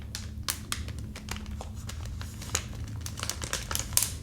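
Plastic wrappers on small, individually wrapped Spanish biscuits crinkle up close in bursts of sharp crackles and taps, quiet and intimate, with no voice.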